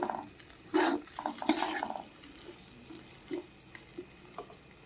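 Green chillies are stirred into hot oil with onion and garlic in a pan, with sharp bursts of sizzling and crackle, clattering stirring strokes and a quieter frying hiss between them.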